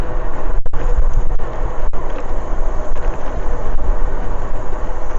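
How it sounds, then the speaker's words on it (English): Steady, loud wind buffeting while riding a 2024 Wired Cruiser electric bike at about 21 mph on cruise control, a continuous roar filling the whole clip with a few brief dips. "It's pretty windy."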